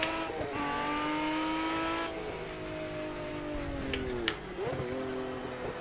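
An Aston Martin Vantage V12 engine in the racing game Project Cars drones steadily at high revs, dipping and climbing through gear changes with brief tyre squeals, loud and continuous.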